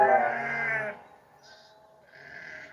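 A sheep standing on railway tracks in the animated Thomas the Tank Engine series lets out one loud, wavering bleat, followed by quieter, fainter sounds.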